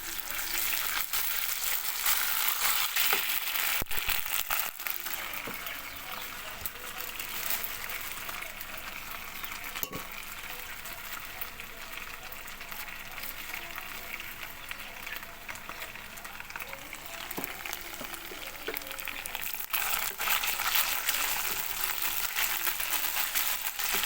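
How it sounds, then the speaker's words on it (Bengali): Ginger and cumin paste frying with lightly browned onions over a medium flame, a dense, loud, continuous sizzle that runs throughout, close up, with occasional stirring scrapes and a voice faintly underneath. "আদা এবং জিরা বাটা দিয়ে আমি ভালোভাবে মিশিয়ে নেব।"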